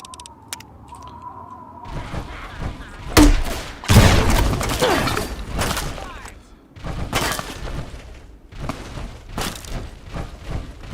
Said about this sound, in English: Someone shooting at me from behind, too.